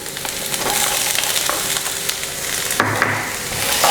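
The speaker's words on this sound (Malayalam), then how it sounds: "ഞാൻ ബീൻസ് ചേർത്ത് കൊടുക്കുകയാണ്. ഒപ്പം തന്നെ ക്യാബേജും" Beans and cabbage stir-frying in a hot pan for restaurant-style egg fried rice, a loud steady sizzle with scraping stirs and a sharper clatter near the end, close up and without speech.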